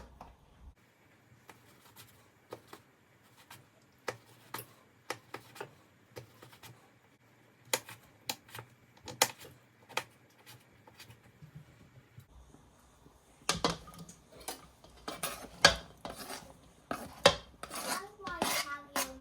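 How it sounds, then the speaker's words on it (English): A knife taps repeatedly on a cutting board while finely chopping pickles, sparse irregular knocks at first, then a quicker, denser run of chops near the end. "I'm just gonna cut these pickles real tiny"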